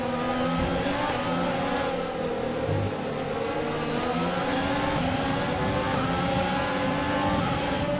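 F1 race car engine in F1 2020 at the Belgium Grand Prix, a loud, steady high-revving whine held throughout with the pitch sliding gradually in the slipstream, no voices.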